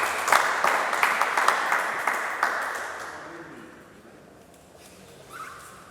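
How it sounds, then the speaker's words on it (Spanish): Audience at a conference on sustainable development in the Amazon claps to welcome a speaker, with brisk, fairly loud clapping that thins and fades out after about three seconds into a quiet room. "Aplausos, por favor, de bienvenida."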